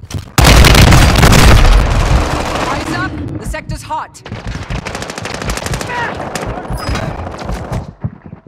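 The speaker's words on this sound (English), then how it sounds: "Throwing flash grenades!" Explosions and heavy gunfire erupt in a Call of Duty match as flash grenades go off: a loud roaring blast opens, followed by dense automatic fire, sharp bangs and ringing tones, with a voice shouting briefly underneath.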